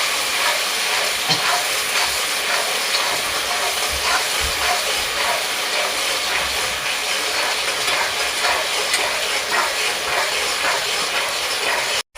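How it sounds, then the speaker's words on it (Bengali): Spice paste frying in oil in a pan for a Bengali banana-flower and prawn dish gives a steady, moderately quiet hiss and crackle that continues evenly throughout, with no voices. "এবার আমি যে মশলা করা ছিল সেই মশলাটাকে একটু কষে নেব।"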